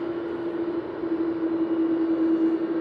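EasyJet airliner spooling up its engines on runway 05 left at Manchester Airport, a steady loud jet roar with a strong sustained tonal whine, continuous and unbroken.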